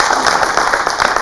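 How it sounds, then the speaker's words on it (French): An audience applauds Ali with loud, dense clapping from many hands, close and continuous, with a faint murmur of voices underneath. "Applaudissements pour Ali."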